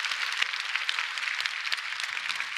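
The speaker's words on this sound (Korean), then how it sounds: "우리 하나님께 영광의 박수 올려드립니다." A church congregation claps together during a Korean sermon, a dense, even wash of many hands applauding steadily at moderate loudness with no voices over it.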